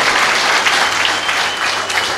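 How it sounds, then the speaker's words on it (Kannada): Audience applause at the Rotary Puttur City installation ceremony rolls on evenly, many hands clapping together in a dense, continuous burst. "ಮತ್ತೊಮ್ಮೆ ಅವರಿಗೆ ಚಪ್ಪಾಳೆ"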